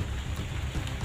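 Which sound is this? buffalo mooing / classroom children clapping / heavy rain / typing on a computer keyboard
heavy rain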